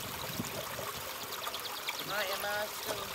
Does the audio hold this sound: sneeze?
no